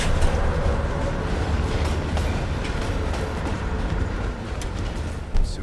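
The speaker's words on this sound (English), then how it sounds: "Train's slowing down." A train rolls along in the Black Ops Cold War campaign while slowing down, a continuous heavy rumble of wheels and carriage noise with faint clicks, steady and close, easing slightly toward the end.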